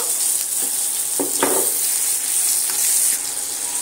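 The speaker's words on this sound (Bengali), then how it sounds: "ডিম ভাজলাম সেই তেলের মধ্যে আমি পেঁয়াজটা ভালো করে লাল লাল করে ভেজে নেব।" Onions fry in the oil left from frying eggs, for egg biryani, giving a loud, constant close sizzle with a few brief stirring scrapes and no talk.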